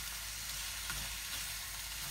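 Pad thai ingredients, including bean sprouts, stir-fry in a wok with a constant hissing sizzle, close and even, with faint scraping stirs and no voices.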